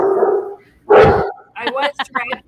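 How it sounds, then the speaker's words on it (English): A deaf dog growls and gives a loud bark in the background while someone talks in the foreground. "That's Lois Lane growling in the background."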